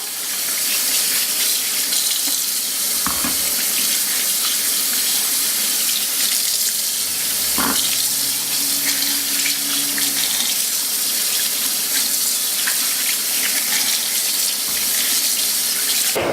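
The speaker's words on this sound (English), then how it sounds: "Let's go ahead and get rid of all this water. We're going to rinse the meat now." Tap water runs steadily into a kitchen sink while pork backbone is rinsed for mole, a continuous close gush broken by a few brief knocks and clunks of the meat and pot.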